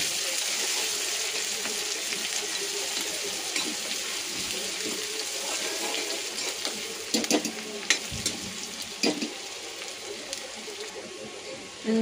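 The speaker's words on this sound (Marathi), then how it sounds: "चांगलं फ्राय होऊ द्यायचं हे अद्रक लसूण चांगलं." Ground ginger and garlic fry in a pan with a steady broadband sizzle, punctuated by occasional clinks and scrapes of a utensil stirring, moderately close.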